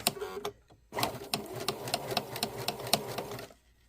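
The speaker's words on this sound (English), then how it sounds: "I've got my machine set on a zigzag, a smaller zigzag, and I'm just going to zigzag around this" A sewing machine runs a small zigzag stitch around a fur handwarmer muff, its needle rattling in quick even bursts with a brief pause near the start, close and clear with no talking.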